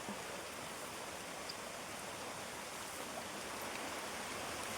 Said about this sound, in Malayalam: നല്ല സ്പീഡിലാണ് വെള്ളം പൊക്കോണ്ടിരിക്കുന്നത് നല്ല ഒഴുക്കുണ്ട്